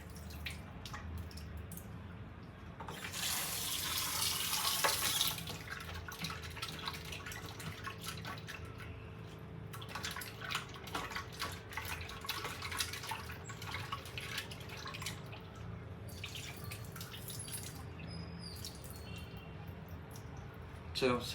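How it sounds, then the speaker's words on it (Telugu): Raw chicken being washed in water, with splashing and dripping close by, a louder rush of running water early on, then softer sloshing and drips. "చికెన్ అయితే కడుక్కున్నాం"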